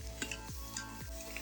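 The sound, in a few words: sautéing onion, carrot and beans in a pan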